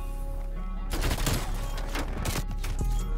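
Rapid automatic gunfire erupts in a Call of Duty Cold War match, with dense bursts of close shots in quick succession after a quieter opening, followed by scattered shots and some background game noise.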